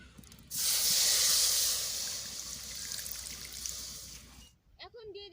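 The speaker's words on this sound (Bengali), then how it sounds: "আমি আমার আন্দাজ মতো জল দিয়ে দিচ্ছি" Water poured in a steady hissing stream while making a Bengali roll pitha filling, loud and continuous for about four seconds, then stopping abruptly, with a brief voice afterward.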